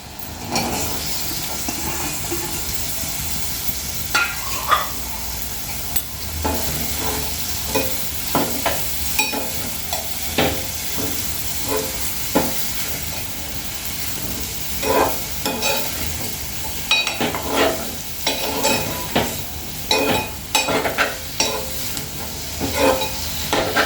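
Chopped ridge gourd with seasoning sizzles in a pan, a steady bubbling hiss broken by frequent scraping stirs of a spatula against the metal, close and continuous with no talk.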